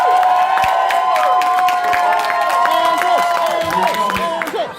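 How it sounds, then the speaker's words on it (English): Crowd at a fan convention panel applauding and cheering loudly, with steady clapping under a ringing musical tone throughout. "More applause for the guy who killed Zordon."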